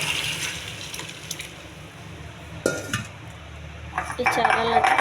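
Hot rasam poured into a tempering pan in a home kitchen, with metal pots and utensils clinking and a splash of liquid toward the end, close and moderately loud.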